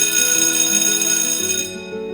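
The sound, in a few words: school bell ringing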